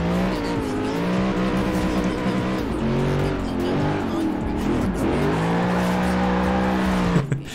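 A Corvette C8 drifts in the video game Forza Horizon 4, its engine holding a loud, sustained wavering drone with squealing tires that dips and climbs through the slide before cutting off near the end.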